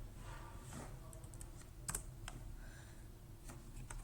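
Keys clatter on a computer keyboard in a quiet, irregular typing burst, with a few sharper taps near the middle, fairly close and alone.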